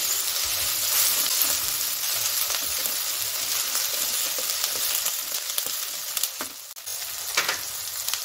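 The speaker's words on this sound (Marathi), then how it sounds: "त्यानंतर अद्रक लसूणची पेस्ट घालूया।" Ginger garlic paste sizzles loudly in a hot pan of veg fried rice with peas, a dense, steady hiss and crackle that carries on throughout, with a few brief stirring clatters near the end.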